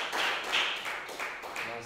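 Church congregation applauding together, a dense, steady wash of many hands clapping at moderate volume, filling the space without pause.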